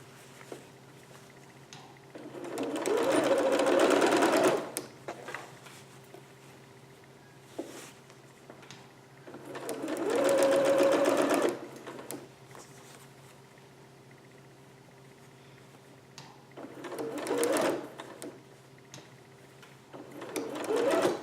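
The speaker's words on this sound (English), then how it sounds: "I'm going to sew all of that together just with a regular stitch" A sewing machine runs a regular straight stitch along a fabric seam in several bursts of steady whirring and rapid ticking, separated by pauses where only a low hum remains.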